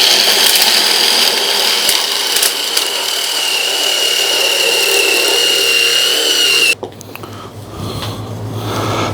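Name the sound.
dowel maker tool cutting a square piece of wood into a dowel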